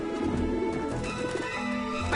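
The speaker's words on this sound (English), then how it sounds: "Back off, birds!" Pigeons coo on a rooftop in the Grim Fandango adventure game, soft throaty warbling over a busy background with a louder burst at the end.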